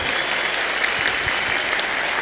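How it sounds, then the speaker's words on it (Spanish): A church congregation applauds loudly and steadily, with dense, continuous clapping that fills the room for a couple of seconds and no voices standing out. "Un fuerte aplauso para ellos"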